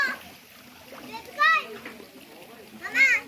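Water splashes in short bursts as people swim at an outdoor picnic, with children's voices calling and chattering close by between the splashes.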